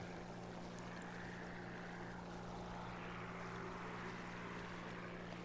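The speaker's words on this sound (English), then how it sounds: "I don't know if this plane can turn better than the Tiger Cat." Twin piston engines of a Grumman F7F Tigercat fighter in the War Thunder video game drone steadily and loudly throughout, a constant propeller roar with a low, even hum and no pauses.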